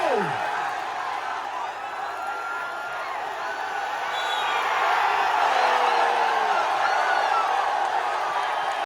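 A large outdoor crowd at a tug-of-war contest in Areekkara, Kerala, gives a sustained roar of cheering and clapping, swelling midway, while a voice carries over the din.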